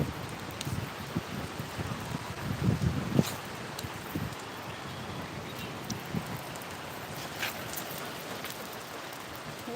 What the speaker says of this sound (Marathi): उन्हात पाऊस पडतोय बघा ऊन पडलंय आमच्या इकडं आणि उन्हात पाऊस येतोय